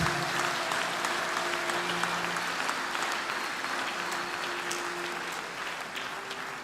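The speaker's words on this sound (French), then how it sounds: "applaudis très bien pour Jésus-Christ" A congregation at a prayer mass applauds for Jesus Christ: sustained crowd clapping, even and continuous, easing slightly toward the end, with soft sustained instrumental tones beneath.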